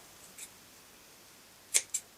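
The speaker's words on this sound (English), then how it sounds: "Then you're going to take your scissors," Scissors snip fabric a few times, quiet and close, with brief sharp clicks separated by silence.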